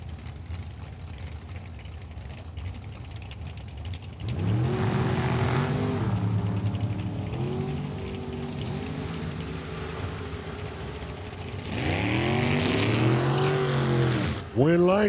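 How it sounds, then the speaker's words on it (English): Top fuel dragsters race at Lucas Oil Raceway, including a Chevrolet-powered Haas Carruthers Racing American Dragster and the Mellis Brothers M&M Dragster. Engines roar in two loud surging bursts with shifting harmonic sweeps over steady crowd and track noise. "Rock Haas in the Haas Carruthers Racing American Dragster, Chevrolet side."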